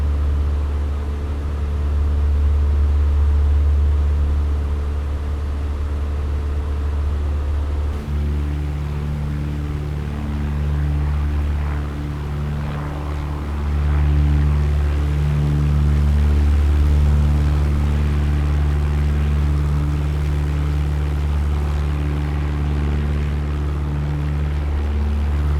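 A Piper Tomahawk propeller aircraft engine in the MSFS2024 video game drones steadily with a deep, loud hum and a strong low rumble, shifting slightly in pitch partway through and staying continuous throughout.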